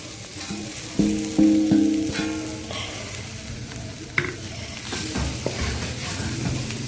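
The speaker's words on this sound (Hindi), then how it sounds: "तो ये इसमें मैं आलू ऐड करने लगी हूँ।" Potatoes tumble into a pan of frying spice mix, bringing a loud splash and hiss near the one-second mark, then steady sizzling with scraping stirs and a sharp clink, no voices.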